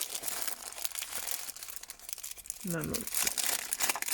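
Small plastic bag holding stickers crinkles and rustles near the microphone, brief crackling handling noises mixed with a short spoken remark.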